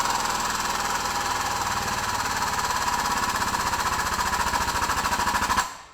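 Hand pumping of a John Deere 2030 hydraulic lift cylinder on a test rig: a steady, rapid mechanical pulsing with a constant whine, loud and close, that cuts off abruptly near the end.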